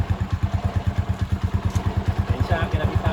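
A Rusi Macho 175 motorcycle engine runs steadily after starting, its low, even pulsing beat loud and close throughout.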